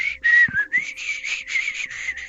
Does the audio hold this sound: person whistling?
yes